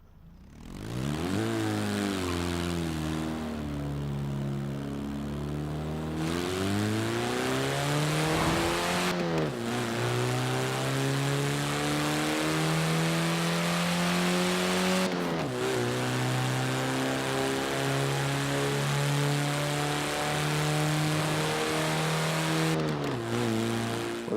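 Engine of a very slow car in Forza Horizon 4, similar to a Morris Traveller, droning steadily and loudly as it accelerates through the gears, pitch climbing then dropping at each shift, with no talking.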